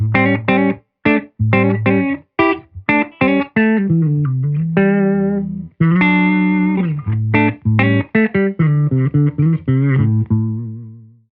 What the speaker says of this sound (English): Silktone amp sounds like this.